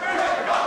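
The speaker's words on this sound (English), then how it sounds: "Listen to the crowd." A loud wrestling arena crowd roars and cheers in a dense, sustained wall of voices, swelling slightly twice during a hardcore tag-team match with steel ladders and tables.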